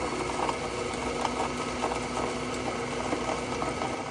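A Baratza Vario coffee grinder with a suspected wiring fault runs its motor in a steady, fairly quiet mechanical whir with a faint repetitive rattle. No grinding is evident.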